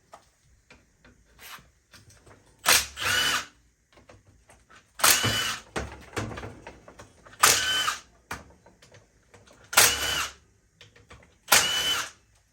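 A power tool drives bolts out during a Yamaha YXZ 1000 install, sounding in five short, loud whirring bursts spaced a couple of seconds apart with quieter handling noises between them.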